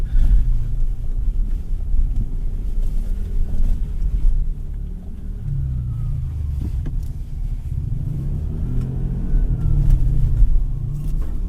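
A 2024 Nissan Patrol LE with a 5.6-litre V8 drives along, its low, steady engine rumble mixed with road noise and some wind buffeting, continuous and close throughout.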